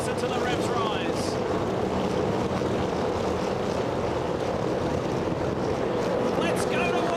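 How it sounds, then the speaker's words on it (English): A full grid of V8 Supercars revs up on the start line of the 2001 Bathurst 1000, a loud, steady roar of many engines blended into a wide, continuous drone, with commentary over the top. "Now listen to the revs rise."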